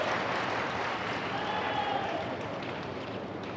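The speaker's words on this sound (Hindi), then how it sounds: "पूरे मंच का एक बार जोरदार ताली बजा के अभिनंदन कर दें" Audience at a political rally in Madhya Pradesh, applauding the stage: dense, sustained clapping from a crowd, steady and fairly loud, gradually tapering off.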